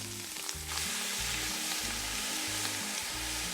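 Callaloo and carrots with pimento fry in a pot over an outdoor fire, crackling in a steady sizzle with a stirring clatter, fairly close and even.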